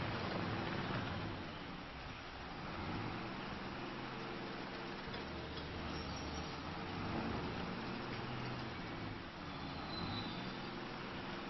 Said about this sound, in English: Rain is coming down pretty heavy